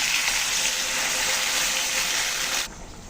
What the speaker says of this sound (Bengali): এখন জল দিয়ে দেবো, জলের জন্য জল দিয়ে দিচ্ছি